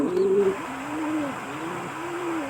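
A grizzle pigeon coos up close, a short first call followed by several soft, rolling coos in a slow, even rhythm.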